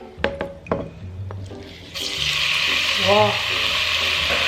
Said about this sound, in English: The first thing we're gonna do is stir fry the beef.